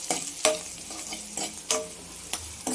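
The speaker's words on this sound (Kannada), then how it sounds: "2 ನಿಮಿಷ ಹಿಂಗೆ ಫ್ರೈ ಮಾಡಿ ಹಸಿ ವಾಸನೆ ಹೋಗೋದು" A ground masala of coconut and green chili fries in a pan, a soft sizzle broken by several sharp scraping strokes of stirring at irregular intervals.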